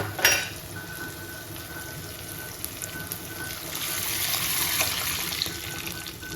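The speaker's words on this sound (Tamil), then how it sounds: "புளி மிளகாத்தூள் ஒரு தக்காளி உப்பு போட்டு நல்லா கரைச்சி விட்டாச்சு இப்போ நம்ம இதில் சேர்த்துருவோம்" Tamarind, chili powder, tomato and salt mixture poured into a Tamil-style fish curry in a home kitchen, giving a steady splashing gush of liquid that builds slightly toward the end, close and fairly loud, with no talking.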